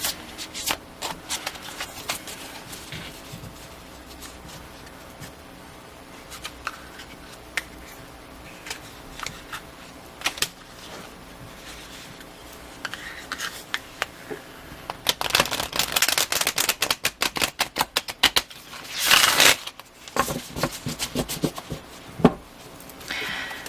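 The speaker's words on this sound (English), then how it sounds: "I just mean I can shuffle these cards just fine." Tarot cards being shuffled by hand, a steady riffling and flicking that grows louder and busier toward the end, with no talking.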